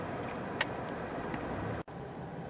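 Cabin drone of a 2019 Honda Insight Hybrid cruising on an expressway, a steady low road and engine rumble with a faint click near the start and a brief dropout.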